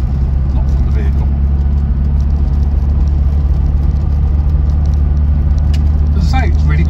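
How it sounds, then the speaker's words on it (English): A 1999 Land Rover Discovery 300TDi diesel drives along a bumpy road, its steady low engine drone and road rumble continuous throughout, with faint light rattles but no clear clunking. "So this road is very bumpy, and it shows up any sort of clunking or rattling or anything loose"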